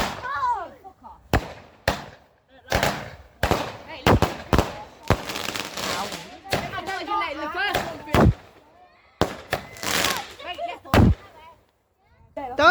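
Bonfire night fireworks crack and boom in a display, loud bursts and crackling volleys in irregular clusters, with people talking and exclaiming between the blasts.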